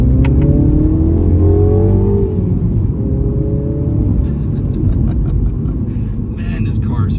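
A 2016 Mini Cooper John Cooper Works with a six-speed manual accelerates hard, its engine note rising in pitch, dropping briefly on a gearshift near two seconds, then climbing again as someone talks over the loud, steady drone.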